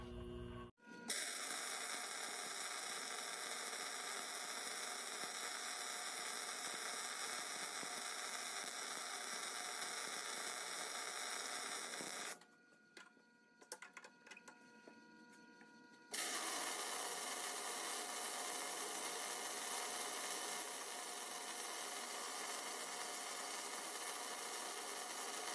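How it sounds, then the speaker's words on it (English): A MIG-style welder buzzes and crackles steadily while welding a Civic viscous differential adapter in a jig, with a short pause before the arc resumes, sounding close and even throughout. "and start welding."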